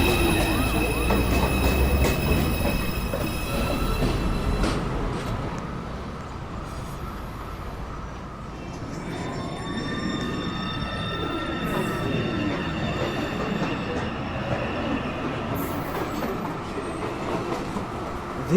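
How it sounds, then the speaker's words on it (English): A New York City subway 1 train on the elevated line at 207th Street station passes close by, its wheels grinding and clattering loudly over the rails, with a squealing screech midway as the noise steadily fades. "This is a Manhattan-bound 1 train."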